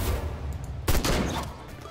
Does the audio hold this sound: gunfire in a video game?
yes